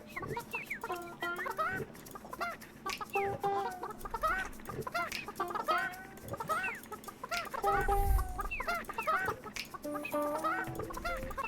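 Chickens cluck steadily and fairly close in the video game Burly Men at Sea, a busy run of overlapping clucks lasting several seconds with a dull low thump partway through.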